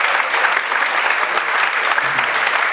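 Audience applause for a group of students at a live event, a dense, loud and steady burst of clapping filling the whole stretch without a break.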